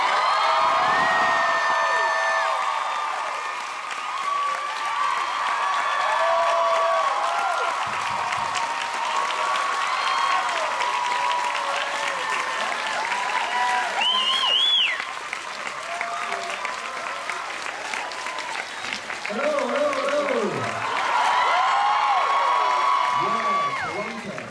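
A convention audience at a Doctor Who Q&A at FanExpo claps and cheers loudly as actors walk out, a dense, sustained roar of applause with whoops and shouts running the whole time, easing briefly midway before swelling again.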